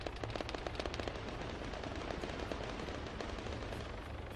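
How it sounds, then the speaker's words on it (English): Rapid automatic gunfire from the military video game Arma 3 rattles in dense, continuous bursts, the shots running together in a harsh, steady crackle. "Can hear a bit of fire coming from Tower 1."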